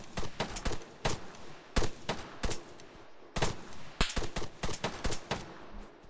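Rapid bursts of automatic gunfire and single shots in the military video game ARMA III, loud and close, coming in irregular clusters with brief pauses between volleys and no speech.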